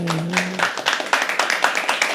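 Audience clapping at a poetry open mic, a brisk run of steady applause from a small crowd, with a brief voice at the start.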